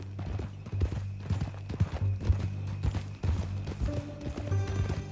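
Horse hooves clip-clop in Red Dead Redemption 2 as the animal walks, a steady run of close, crisp hoofbeats set over a low, constant hum.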